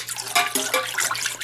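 A lanolin mixture is poured into a water bath for treating wool, giving a close, splashy trickle of liquid with small bubbling drips over about a second and a half, with no talk.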